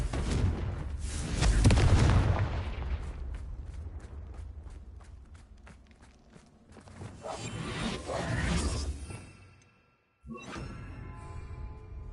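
A Confringo explosion spell in Hogwarts Legacy fires with a whooshing blast and deep boom, then rumbling impacts and crackling debris, with a sudden cut to near silence before game ambience resumes.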